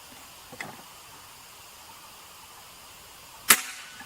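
A sharp, crisp crack from a Predator semi-CNC PCP air rifle shot near the end, preceded by a fainter click, with quiet background otherwise.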